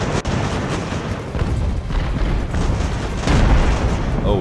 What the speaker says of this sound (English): Oh, we've taken cannon fire.